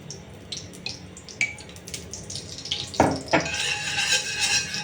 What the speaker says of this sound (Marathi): आपल्याला तुपामध्ये आता हा केस भाजून घ्यायचा आहे रताळ्याचा केस आता आपण भाजून घेऊया